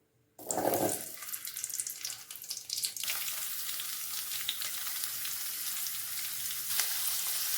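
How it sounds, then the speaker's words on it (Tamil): Small onions drop into hot sesame oil with a sudden loud splash and burst of sizzling that settles into a steady, close frying hiss running continuously without talk. "எண்ணெய் நல்லா சூடாகட்டும் வெங்காயத்தை இதில் சேர்த்துக்கலாம்"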